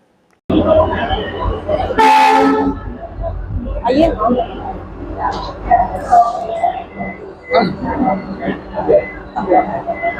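A Vande Bharat express on a trial run between Kolhapur and Pune, its horn blaring once loudly near the start, then rumbling and clattering close by while people talk over the noise.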